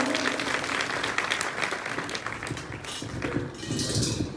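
An audience claps through a short devotional stage performance about Sita and Hanuman, giving a dense, steady patter of applause with some faint voices mixed in.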